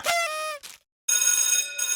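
A telephone bell rings in two short bursts separated by a brief silence, loud and close.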